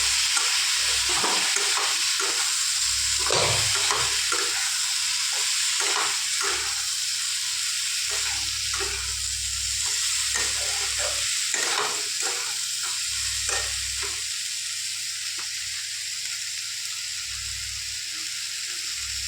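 Vegetables with turmeric and spices stirred in a hot frying pan, a steady sizzle running throughout with repeated scraping strokes of the spoon against the pan.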